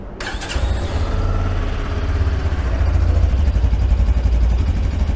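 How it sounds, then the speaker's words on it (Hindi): A Bajaj Platina 110 motorcycle engine starts with a brief starter whir, then catches and settles into a steady, close, loud single-cylinder idle with a low throbbing pulse. "प्लैटिना 110 जो है वो पहले स्टार्ट कर लेते हैं अपन लोग।"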